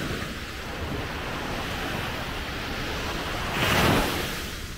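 Ocean waves on a beach at sunrise in Cancun, with a steady wash of surf and wind and one wave swelling and breaking more loudly near the end, no voices.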